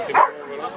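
A single short, high yip or bark from a search-and-rescue dog, close by, followed by quiet background murmur.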